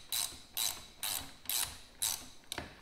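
A torque wrench ratchets as it tightens a bolt to 18 foot-pounds during a Bilstein 5100 shock and TRD Tundra lift install on a third-generation Toyota 4Runner, heard as five quick, evenly spaced ratcheting bursts, close and clear.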